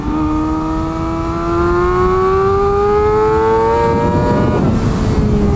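Kawasaki ZX6R sport bike revving hard on a race track, its inline engine note climbing steadily in pitch through a gear, loud and close, with a slipper clutch fitted, ending in a brief rougher burst near the end.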